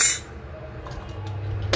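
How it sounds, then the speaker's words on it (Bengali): A lid clinks down onto a pot of dal cooking in a home kitchen after mustard oil goes in, one short metallic clink at the start, then quiet low hum with a faint knock near the end. "তো এবার ডালটা এবার আমি ঢেকে দেবো"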